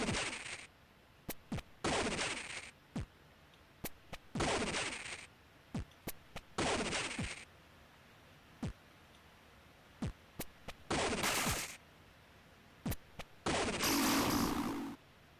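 Gunfire in the video game Mouth Sweet, a series of short sharp bursts and single cracks separated by quiet gaps, with sparse clicks between volleys.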